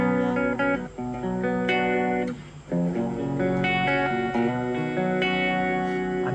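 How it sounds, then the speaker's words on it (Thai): An electric guitar played clean through a Blackstar ID:CORE Stereo 10 practice amp with a flanger effect, ringing chords and single notes sweeping with a swirling, whooshing modulation, fairly quiet, with no talking. "อันนี้เป็นเหมือนแฟงเจอร์นะครับ"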